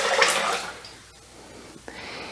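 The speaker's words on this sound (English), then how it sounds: "And then 1 litre of cold water." Cold water, one litre, pours onto rice for making rice milk, a rushing splash loudest at the start that fades to a trickle, then a brief clunk and renewed light flow, close and without talk.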